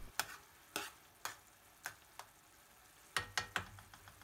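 A spoon scrapes and stirs meat through curry sauce in a pan for a British Indian restaurant style dhansak, giving about nine distinct clicking strokes over a soft background sizzle.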